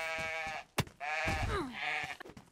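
Sheep in the DayZ survival game bleat in a few close, clear, wavering calls, with one sharp click between them.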